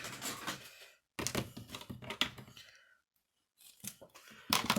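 Several sharp snipping bursts of scissors cutting through craft foam, in quick clusters separated by short pauses, close and clear.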